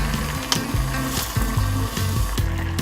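Water and a spoonful of soy sauce hit butter-fried rice in a pot, setting off a steady close sizzle and crackle with a low tonal hum running underneath, no voices.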